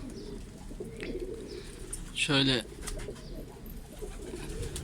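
An akbaş pigeon, a wary bird with both eyes white, gives one short, clear coo close by, with ambient noise around it and someone speaking briefly.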